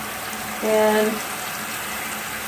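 Clothes placed by hand into a water-filled sink at home on wash day: a brief soft slosh and splash of water near the mic, with a short speaking voice and quiet room tone around it.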